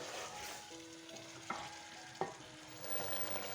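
Kachnar chicken being fried in masala in a pan, a soft steady sizzle with a couple of sharp clinks of a spoon stirring against the pan, quiet and close, with no talking.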